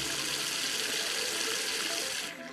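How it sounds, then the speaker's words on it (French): Water runs steadily and loudly from an old ceramic tap as a continuous, fairly close hiss, then tails off near the end. "Tout le robinet, ça toussote un peu, ça crachote, et au bout d'un moment, il y a de l'eau qui coule."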